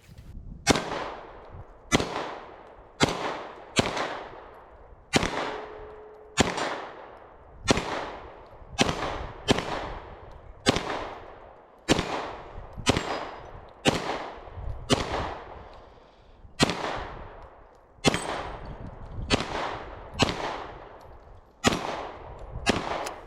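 Stoeger STR-9S Combat pistol fitted with a micro green dot sight firing at a range, about twenty sharp, loud reports in a steady, evenly spaced string, each cracking and decaying quickly.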